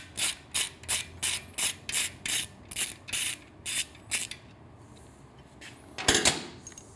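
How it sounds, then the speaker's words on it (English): A 6mm Allen hex bit backs a bolt out of the foot peg bracket on a Triumph Street Twin, giving a steady run of about a dozen evenly spaced ratcheting clicks, close and clear, then a brief metallic clatter near the end. "with our 6mm Allen hex bit, gonna remove this one bolt from the foot peg bracket"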